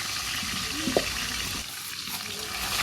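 Duck meat for biryani is worked together by hand with yogurt, salt, turmeric, biryani masala, kewra and rose water, and fried onions. The result is a continuous close, wet squelching and rustling with one small click.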